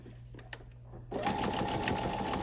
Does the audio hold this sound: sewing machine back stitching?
yes